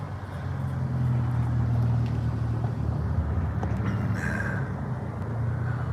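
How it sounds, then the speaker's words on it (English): Continuous road traffic in Denver rumbles steadily in the background, a broad, moderately loud wash of passing car noise with no talk. "Yes, the traffic noise"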